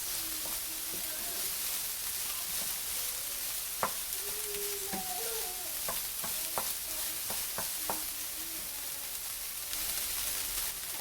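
Vegan meat pie filling sautés in a pan, a steady broad sizzle with scattered scraping clicks from stirring, close and continuous, no voices.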